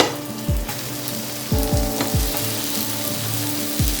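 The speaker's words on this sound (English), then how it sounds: "Pan is hot. Lamb chops straight on the pan." Lamb chops seasoned with salt, pepper and olive oil hit a hot pan and sizzle loudly and steadily, with fresh spitting bursts as each piece goes down.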